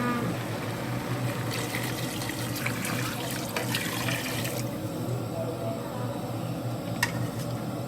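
Water poured into a cooking pot of sour bamboo shoot curry with chicken, a steady close rushing flow that thins out midway, ending with a single drip-like tap.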